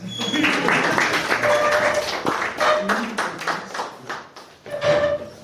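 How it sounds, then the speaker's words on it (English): At a speakers' forum, an audience claps through a burst of scattered, crisp hand claps that run under ongoing talk and voices for several seconds. "round of applause."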